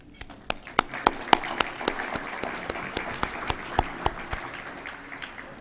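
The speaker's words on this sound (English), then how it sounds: "let's give the Lord a hand clap of praise" Scattered audience members clap in praise to the Lord, the sharp individual claps sparse and uneven rather than a full roar, fairly soft and close, over faint room noise.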